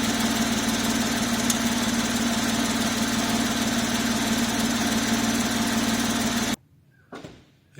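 A Porsche 997 Carrera S engine idles with its sport exhaust on, a steady low burbling rumble heard close for several seconds before cutting abruptly to near silence.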